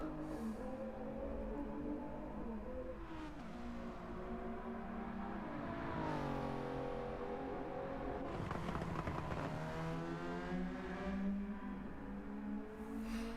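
A GT3 race car engine from a racing video game at Suzuka drones loudly and continuously, its pitch climbing and dropping through gear changes, with a brief swelling rush midway and no talking.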